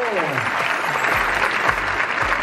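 Steady applause from a sizeable film premiere audience fills the whole stretch, dense clapping at an even loudness with a few low thumps underneath.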